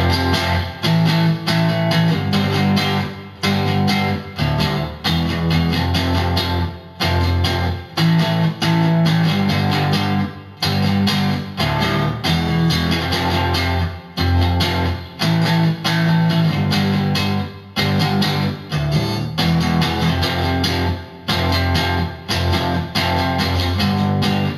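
A heavily distorted electric guitar plays the full riff of a song, loud and close, in choppy strummed bursts with brief stops between phrases.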